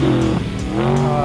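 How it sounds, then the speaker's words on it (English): A trophy truck racing in the desert roars loudly and close, its engine pitch shifting as it revs, with a brief squeal in a short burst. "Kevin's doing the sportsman race in the trophy truck"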